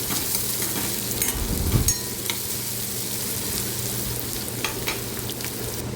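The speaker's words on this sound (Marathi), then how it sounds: "कांदा व्यवस्थित परतून घ्यायचा आपल्याला तेलामध्ये" Chopped onion sautéing in hot oil with asafoetida and curry leaves in a pan, a continuous close sizzle with occasional stirring scrapes and a brief louder burst early on.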